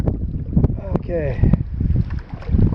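A canoe paddled solo across Rum Lake in the Boundary Waters, with soft paddle strokes and water swishes in a steady rhythm, close by under wind noise on the microphone and some voice sounds.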